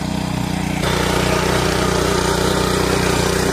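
A tractor engine runs continuously in a farm field, a loud, steady mechanical drone close by with a constant throbbing rhythm.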